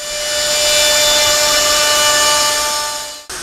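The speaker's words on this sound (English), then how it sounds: "run this edge trimmer, this is the MFK 700, along the bottom edge" A Festool MFK 700 edge trimmer runs along the bottom edge of edge banding on a workpiece, giving a loud, steady high-pitched motor whine that holds for about three seconds before cutting off abruptly.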